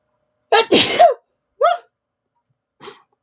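A loud, close sneeze, followed by two smaller sneezes, each fainter than the last, with silence in between.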